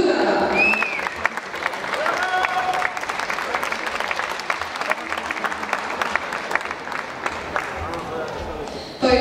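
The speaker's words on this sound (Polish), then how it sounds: "Duże brawa!" Sustained applause from an audience at an award ceremony during a bench-press tournament in Tarnobrzeg, dense clapping with crowd noise and voices running steadily throughout.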